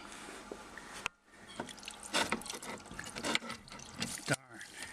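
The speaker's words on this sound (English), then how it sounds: "Now we're getting a ton of water squirting through" Water squirts and splashes from a dishwasher supply line left running after the shut-off valve failed, heard as close, irregular hissing spurts and drips.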